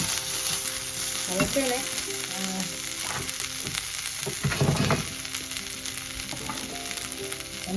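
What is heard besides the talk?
red chillies frying in a kadai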